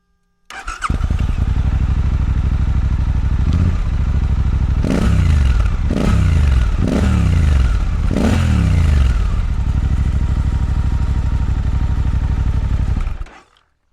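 A Suzuki 800SE motorcycle with a stock-baffled exhaust idles loudly and close, then is blipped through four sharp throttle revs in quick succession before settling back to a steady idle and shutting off.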